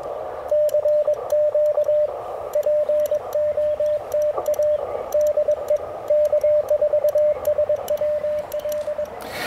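Morse code CW keying from a Mission RGO One ham radio in the field using QSK break-in, a steady clear tone beeping in quick dots and dashes over faint background hiss, loud and continuous.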